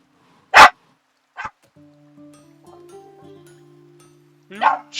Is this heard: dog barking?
yes